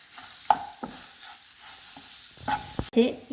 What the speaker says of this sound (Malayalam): ഒരു ടേബിൾ സ്പൂൺ പഞ്ചസാര ചേർത്ത് കൊടുത്ത് ഒന്നും കൂടെ മിക്സ് ചെയ്യാം